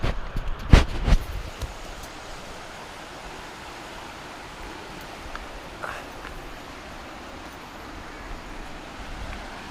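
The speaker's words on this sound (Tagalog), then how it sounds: "Feeling namin malapit na kami kasi malakas na yung tunog ng tubig." A mountain stream in Mountain Province rushes in a steady broadband roar, heard from a short distance, with a few sharp knocks near the start.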